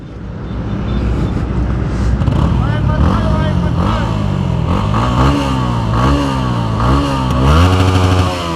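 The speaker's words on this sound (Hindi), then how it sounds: "मतलब पूरा स्टॉक एग्जॉस्ट का ये प्योर साउंड है" A Yamaha R15 V3 motorcycle with its stock exhaust revs loudly up close, the engine note climbing and falling in repeated surges, with talking over it.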